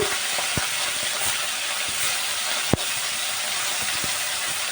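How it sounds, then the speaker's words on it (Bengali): Chapila fish fry in hot oil in a Bengali kitchen with a steady, soft sizzling hiss, broken by a few faint clicks and one sharp tap. "আমি এখন একটা একটা করে মাছ ছেড়ে দেব দেখো আমি এখানে অল্প অল্প করে মাছগুলো ভেজে নেব"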